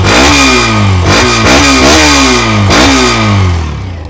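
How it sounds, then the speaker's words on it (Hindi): A 2024 Hero Xtreme 125R 125 cc naked motorcycle revs up hard several times from idle, its exhaust note rising and falling in loud, close bursts with a gruff, grunty tone. "अब थोड़ा सा रेव करते हैं।"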